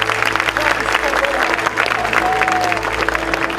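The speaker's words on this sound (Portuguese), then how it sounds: "todos damos a Jesus uma linda salva de palmas" A church congregation claps together in a loud, steady round of applause, with a sustained tone and faint voices mixed underneath.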